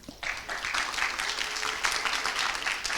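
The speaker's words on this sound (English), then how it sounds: "Round of applause, please," A conference audience gives a round of applause as a speaker comes up for a talk, a quick surge of clapping that holds at an even, moderate level throughout.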